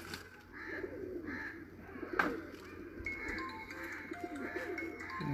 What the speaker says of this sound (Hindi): दुनिया को लाखे कबूतर आजकल बड़े पसंद है ना